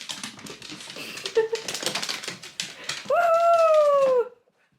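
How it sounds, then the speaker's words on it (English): A pet dog makes a rising, wavering howl that tails off into whimpers at close range, following a stretch of scratchy clicking and shuffling noises in a home. "You're an animal. Crazy dog."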